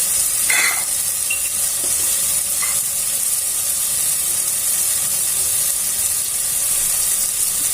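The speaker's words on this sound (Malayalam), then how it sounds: "തക്കാളി ഒന്ന് വഴലട്ടെ." Tomatoes sautéing in a pan for tomato rice, a steady close sizzle with a faint spoon stirring through it, continuous and fairly loud with no one talking.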